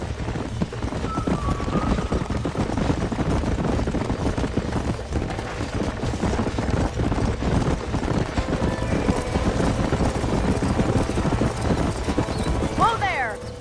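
Horses' hooves clip-clop steadily through the Red Dead Redemption game world, close and continuous under a game soundtrack, with a voice talking over them and a whinny near the end.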